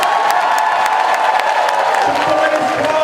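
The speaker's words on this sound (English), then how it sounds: "how about a round of applause for you guys?" Convention audience at BronyCon 2014 cheers and applauds together, a loud, dense wash of claps, whoops and crowd noise that holds steady across the whole stretch.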